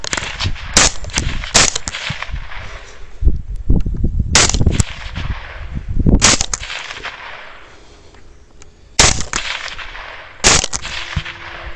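Rifle shots fired at hogs in the field, several sharp loud cracks spaced irregularly a second or more apart, each with a short decaying tail over a quiet outdoor background.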